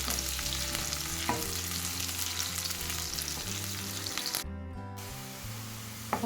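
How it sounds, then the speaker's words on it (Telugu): Onion and green chili frying for a ridge gourd egg curry: a loud, steady close sizzle with occasional stirring scrapes, alongside a constant background hum, with a short gap partway through. "నెక్స్ట్ వచ్చేసి ఉల్లిపాయ పచ్చిమిర్చి యాడ్ చేసుకుంటున్నాను ఇవి రెండు మంచిగా ఫ్రై అవ్వాలి"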